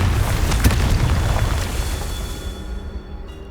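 A Confringo fire spell bursts in Hogwarts Legacy, a loud booming blast with a sharp crack near the start, then a rumbling roar that slowly fades over a few seconds.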